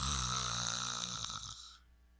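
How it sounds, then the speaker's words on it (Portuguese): A person snoring close by, a sustained rough, harmonic snore that runs for most of the moment and then fades out near the end. "tu já tá roncando"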